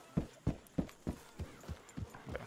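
Horse hooves clip-clop in the Red Dead Redemption 2 video game, an even trot of about eight close, clear thuds at a steady rhythm, with no talking.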